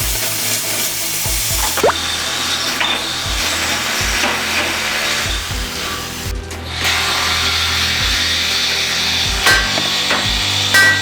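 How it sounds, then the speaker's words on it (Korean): A hammer knocks a raised steel H-beam into position to level it during renovation of a 25-year-old single-storey building, giving a series of sharp metallic strikes over a constant loud worksite rumble. "인력으로 올려준 빔은 수평을 맞춰주기 위해 위쪽부터 해머를 사용해 시공된 위치로 넣어주면서 수평을 맞춰줍니다."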